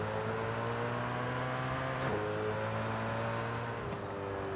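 Engine of a 2020 Koenigsegg Jesko hypercar in Forza Horizon 5 hums at a steady low idle on a festival drag strip, a continuous droning tone with a brief shift midway, no talking.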